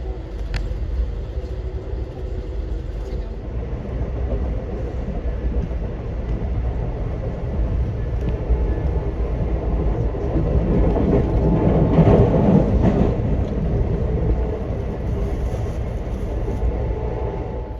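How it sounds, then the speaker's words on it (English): An Amtrak passenger train rumbles steadily on its rails in Florida, a continuous low roar with a swell of louder clatter partway through, heard from on board. "And there's the front of our train."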